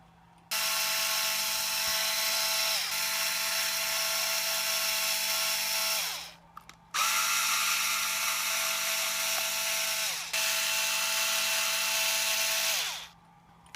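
Power screwdriver removing screws from a Traxxas RC car, whining in long steady runs of several seconds each with short pauses between them, close and loud with no talk.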